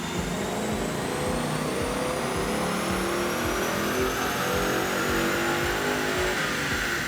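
A 2015 Ford Mustang GT on a dyno with its factory intake and stock tune, engine roaring loud and steady, pitch climbing smoothly through one long pull with no voices.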